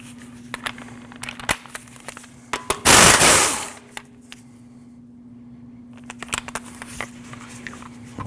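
A 19mm bolt is removed from a 2014-2023 Jeep Cherokee's front end with one loud, roughly one-second burst of a power tool, surrounded by quieter clicks and small metallic knocks close by.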